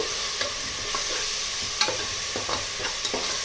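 Masala with tomato puree fries in oil, giving a constant close sizzle broken by several light scrapes and taps of a stirring spoon against the pan, with no voices.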